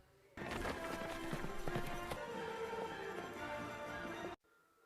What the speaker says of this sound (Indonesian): menunggangi kuda dan mengejar kereta itu